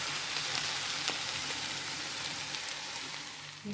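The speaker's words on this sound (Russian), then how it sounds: "тоже обжарим их вместе с этим фаршем" Eggplants frying together with minced meat in a pan, a steady close sizzle with faint crackles throughout and no talk.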